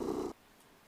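A house cat purrs briefly and close by, a soft low rumble that lasts about a third of a second and then stops, leaving near silence.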